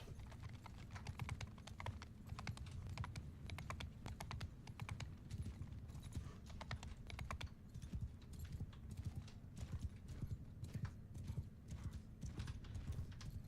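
Massed cavalry gallops across a video game battlefield, a dense, continuous drumming of many hooves that stays loud and steady throughout, with clattering armour-like ticks mixed in.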